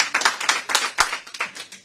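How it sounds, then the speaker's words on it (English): Applause from a crowd, steady clapping with uneven bursts, fairly close and lively. "I'll wait till the clapping's done."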